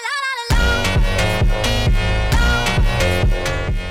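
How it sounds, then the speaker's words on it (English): A Brazilian phonk dance track, loud and upfront, with a repeating heavy bass-and-kick pulse under a bright, distorted synth melody that kicks in after a brief sustained tone. "You can hear these Brazilian phonk songs playing right now."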